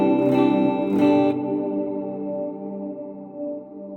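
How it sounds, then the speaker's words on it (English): An M-VAVE Mini Universe reverb pedal set with the decay turned down to just below nine o'clock, two plucked guitar notes followed by a moderately long reverb tail fading away on its own. "We're going to turn that down just to show you a little bit less of a reverb here."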